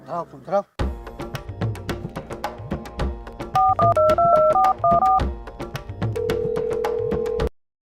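A short burst of rapid keypad dialing tones, followed by steady repeating ring tones over a musical background, with a voice briefly at the start.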